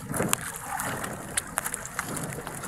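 Sea water sloshes and laps against a small fishing boat's hull in steady gusty wind out at sea, with a few sharp knocks and splashes close by.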